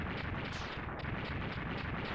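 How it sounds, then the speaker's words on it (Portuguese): Explosions in the Mega Man X2 video game, a continuous dense roar of overlapping blasts, fairly faint and steady with no distinct gaps. "Ainda vamos continuar vendo as explosões."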